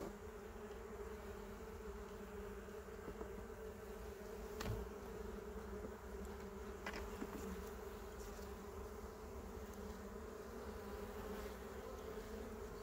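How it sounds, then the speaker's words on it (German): Honeybees on an open hive frame with emerging young bees keep up a steady, close buzz throughout, with a couple of brief knocks partway through. "Schlüpfende Bienen."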